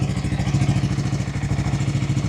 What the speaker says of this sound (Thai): เสียงท่อรถเดินเบานิ่งๆแบบนี้นะครับผม